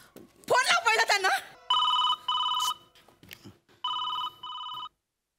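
A telephone rings with repeated electronic trill bursts in paired rhythm after a short stretch of a voice speaking, loud and close, then falls silent.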